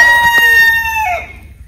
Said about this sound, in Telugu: అన్నీ కూడా నాటుకోడ్లేనండి